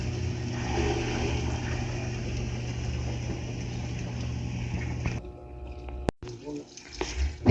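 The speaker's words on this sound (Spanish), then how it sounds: "Aquí la lavadora ya está en el proceso de llenado." A washing machine fills with water during a test of its fill system, a steady running-water rush with mechanical hum that cuts off abruptly near the end, followed by a sharp click and quieter handling noises.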